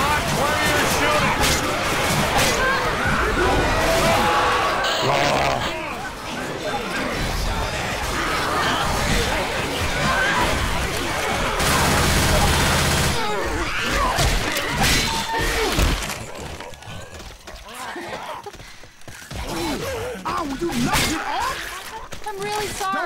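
Chaotic Left 4 Dead 2 co-op firefight, dense overlapping gunshots and impacts running almost continuously, loud and close, with shouting players over the top and a quieter stretch near the end.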